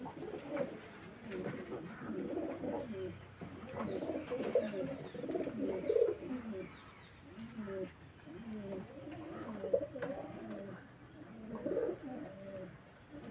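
Pigeons from long-kept bloodlines coo in soft repeated low rumbles close by, overlapping in a continuous murmur with a few faint chirps over a quiet background.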